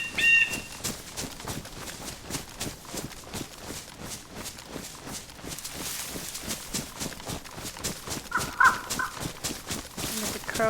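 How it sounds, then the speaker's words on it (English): Crows caw repeatedly in the video game DayZ on the Deer Isle map, mixed with other bird calls, clip-clop like footsteps and steady ambient texture throughout, with a brief sharper call near the end. "Crows"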